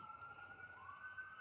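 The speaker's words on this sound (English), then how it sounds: "Sirens." Emergency vehicle sirens wail from some distance with steady rising and falling tones, fairly faint and continuous, with no talk.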